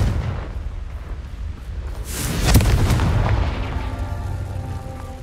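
A Confringo fire spell detonates in Hogwarts Legacy, a deep booming blast that erupts from low rumble into a broad crackling burst and rolls away in a long fading tail.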